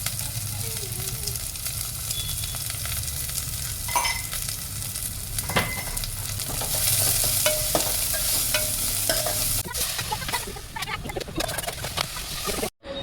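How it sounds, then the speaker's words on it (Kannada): Onion and ginger garlic paste frying in hot oil, a continuous sizzle with repeated scraping and stirring strokes against the pan and occasional sharper clinks, fairly close and without speech. "ಎಣ್ಣೆ ಹಾಕ್ಬಿಟ್ಟು ಈರುಳ್ಳಿ ಹಾಕಿ ಹುರಿದು"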